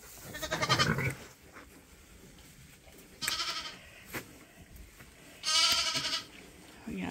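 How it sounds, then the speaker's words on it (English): Lambs on a sheep farm bleat in several separate, fairly close, high wavering calls spaced a few seconds apart, over quiet barn background. "We got the lambs out."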